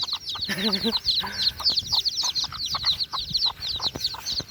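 Chickens cluck in a rural Thai village yard, a steady run of short, close, clucking calls that goes on through the whole stretch over a busy outdoor background.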